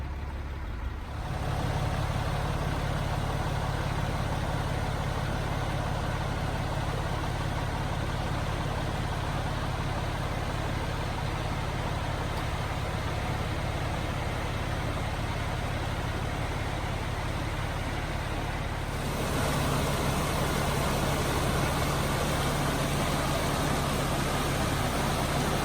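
A car driving down Yellow Gap road on an overnight overland trip, a steady interior engine drone and road rumble, continuous and fairly even, with a slight shift in tone near the end and no talking.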